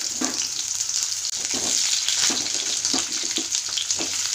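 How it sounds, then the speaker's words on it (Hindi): Cabbage frying in hot oil in a home kitchen, a steady bright sizzle running throughout with soft scraping stirs and occasional clinks, close and loud, no talking. "तो तेल तो प्राय ताती गलानी मुझे कोबीटा कषिबी"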